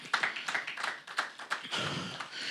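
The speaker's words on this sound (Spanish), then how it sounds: "Dale un fuerte aplauso al Señor." A church congregation claps along in a lively, irregular burst of handclaps, close and steady for a couple of seconds, swelling slightly toward the end.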